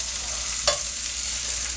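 Onions frying in a pan during preparation of a crock pot beef pot roast, a steady broad hiss of sizzling with a brief clink of a utensil stirring partway through.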